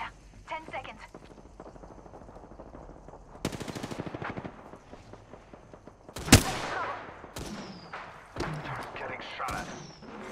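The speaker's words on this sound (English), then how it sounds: "Getting shot at." Automatic gunfire in Apex Legends, with repeated bursts of rapid shots and heavy impact bangs over game effects, plus a sharp loud blast near the middle and several shorter volleys afterward.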